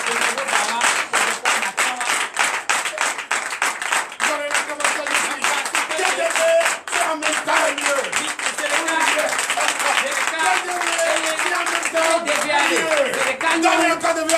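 A church congregation claps rhythmically during a night deliverance and prophecy service, dense and loud, with voices singing or shouting over the steady beat throughout.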